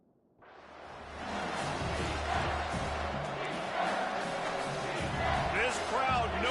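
A stadium crowd in a college football video game roars into a sustained, loud cheer that swells after a quiet start and holds steady, with a commentator talking over it.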